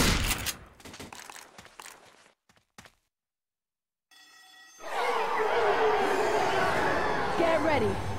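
Gunfire in Left 4 Dead 2, a rapid volley of sharp shots at the start, a brief quiet, then a dense roar of game chaos and crowd noise with voices talking over it.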